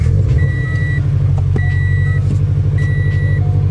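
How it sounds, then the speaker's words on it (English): Warm start of a Subaru BRZ engine, a loud, steady low rumble at idle close by, with repeated electronic chimes ringing over it. "All right, so this will be a warm start because I just drove back home from work."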